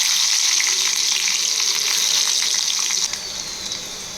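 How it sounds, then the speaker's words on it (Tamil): Garlic, dried chillies and onion frying in hot oil in a pan, a loud, steady crackling sizzle that carries on throughout, easing slightly toward the end. "எல்லாத்தையும் ஃப்ரை பண்ணிப்போம்"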